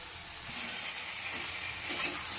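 Steady close sizzling and hissing as chopped onion and tomato fry in a pan with bata fish for a spicy curry, with a faint stirring scrape near the end.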